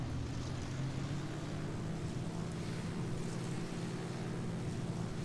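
Aircraft engines from WWII-style plane designs in the video game Kerbal Space Program, a steady low droning roar with a constant hum and no breaks, heard alone at moderate loudness.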